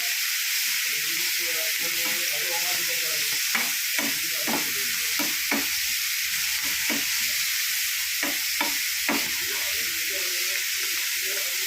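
A green chili fries in hot oil in a pan for spinach sambar, giving a steady loud hissing sizzle throughout, with a series of sharp spoon clinks and scrapes against the pan, close up, with no talk.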